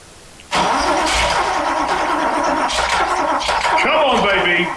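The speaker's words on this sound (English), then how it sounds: "is it actually going to run? Go on." A long-neglected Ferrari 308 GT4 V8, left sitting for years, cranks loudly and close with a steady churning starter whine that strains and squeals near the end without settling into a run.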